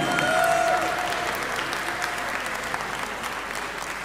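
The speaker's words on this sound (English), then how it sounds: "a massive round of applause as she leaves the stage for Lorraine" Sustained, dense applause from a darts festival audience as a women's darts player leaves the stage, loud and steady throughout with crowd noise and no speech on top.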